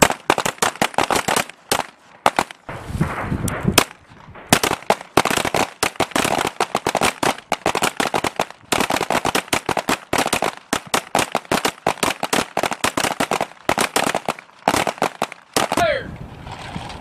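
P320 M17 handguns fire during U.S. Army training, sharp close shots in rapid irregular strings with brief pauses between volleys and a shouted command at the end.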